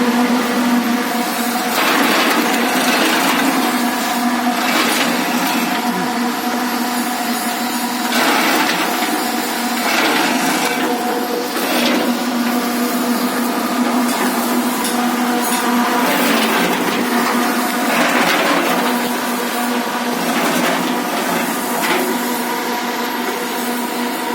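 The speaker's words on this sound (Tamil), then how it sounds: "இதுவும் அரைச்சி மோட்டார் தான்." The grinding motor of an agricultural machine runs steadily near Melur, Madurai, Tamil Nadu, giving a loud continuous whir with a firm low hum and rough mechanical noise throughout, with no voices.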